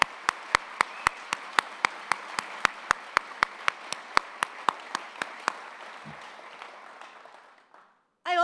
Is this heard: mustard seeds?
no